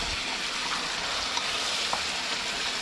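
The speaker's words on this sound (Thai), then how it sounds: "แล้วก็ผัดคลุกเคล้าให้เข้ากันเลยนะครับ" Chili paste with fried shallots and garlic stir-fries in a pan, a dense continuous sizzle close by, with a couple of faint scrapes of the spatula.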